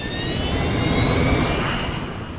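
Airliner jet engines run up to maximum takeoff thrust on runway 34 left, a loud, steady roar with a rising whine held throughout, and no one talks.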